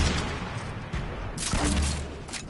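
Rapid bursts of Fortnite gunfire crackle in the distance over a dense, noisy background, with a heavier volley near the middle.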